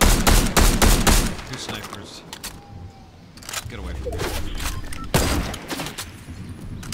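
Sniper gunfire in Fortnite: loud, close bursts of shots with sharp repeated cracks in the opening seconds, a quieter pause, then another heavy round of firing; game sounds fill the background.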